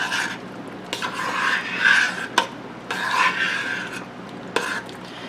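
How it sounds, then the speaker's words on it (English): A spoon stirs canning salt into a pot of homemade marinara sauce, giving close, repeated scraping and rubbing strokes against the pot with short clinks between them, with no talking. "We're just going to stir that up."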